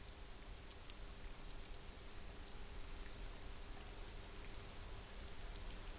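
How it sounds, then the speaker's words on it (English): Steady rain falls in a dreary outdoor scene in the video game Disco Elysium, a dense, even hiss of raindrops on surfaces, continuous and unbroken with no voices. "The rain falls on her shoulders."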